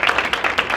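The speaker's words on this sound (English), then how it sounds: "Let's give them a round of applause" Applause from an audience at a university flag raising ceremony for International Student's Day, a short burst of steady clapping with no talk over it.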